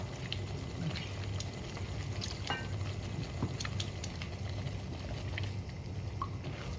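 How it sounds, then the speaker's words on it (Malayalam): Water pours into a cooking pan while an eggplant dish is being prepared. The quiet, steady rush runs the whole way through, with a few faint clinks and drips on top. "കുറച്ച് ആവശ്യത്തിന് വെള്ളം കൂടെ കുറച്ച് ഒഴിച്ചു കൊടുക്കാം"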